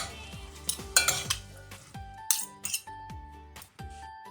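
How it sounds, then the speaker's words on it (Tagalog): Spaghetti stirred in a pot for carbonara, a string of close metallic clinks and scrapes from a utensil against the pot in irregular bursts, with no talking. "Ayan mga kajuday, ating haluin."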